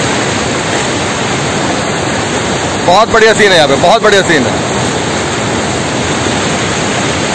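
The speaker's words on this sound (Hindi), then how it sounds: "पानी का फ्लो देखिए," River water rushes through a partly opened gate of the Arpa river dam in Chhattisgarh, a loud, dense, continuous roar that fills the whole stretch while someone speaks briefly in the middle.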